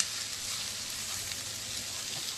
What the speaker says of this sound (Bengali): মাছগুলোকে আগে ভালো করে ভেজে নেব।